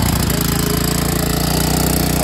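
A motor pump runs near a flooded fishing pit to drain the water, a loud, steady, rapidly pulsing engine drone that fills the short stretch with no voices.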